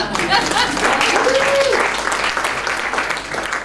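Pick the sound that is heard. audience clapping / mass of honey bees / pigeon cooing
audience clapping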